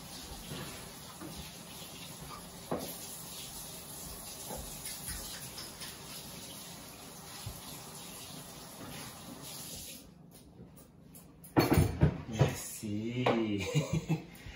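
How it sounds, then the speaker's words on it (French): Hands rinsed under a running kitchen tap, a steady hiss of flowing water that cuts off near the end, followed by brief clatter and a voice speaking. "je me rince les mains"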